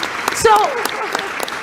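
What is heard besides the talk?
applause from conference audience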